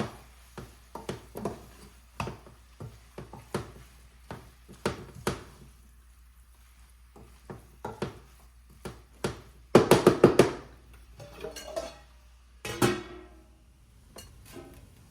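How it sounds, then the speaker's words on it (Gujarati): Grated carrot halwa is stirred in a pan with a spoon, making irregular knocks and taps against the metal. A louder burst of scraping and clatter comes about two-thirds of the way through, then quieter taps follow. "હવે આપણે છીણીને એકવાર હલાવી દઈશું"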